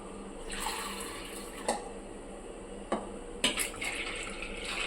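Soaked desi mung beans swirl in water, making faint, quiet sloshing with a few soft clinks and splashes near the end.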